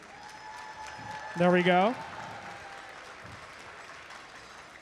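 Faint, steady applause at an opening ceremony of a Statesboro district event, thanking the event sponsors. It runs quietly through the whole stretch while someone speaks briefly over it.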